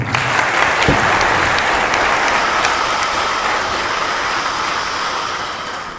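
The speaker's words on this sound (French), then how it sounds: "Je vous demande de les applaudir," An audience applauds the media at a press conference, a dense, sustained wash of clapping from many hands that stays loud throughout and fades slightly at the end.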